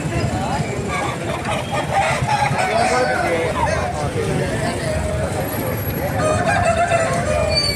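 Roosters crow and hens cluck amid a noisy crowd at a native chicken market in Eluru, India, with steady babble of many voices throughout.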